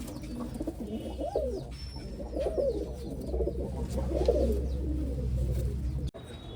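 Red old-coloured desi pigeons coo continuously in a low, throaty murmur at close range, several birds overlapping with occasional faint chirps, and no talking.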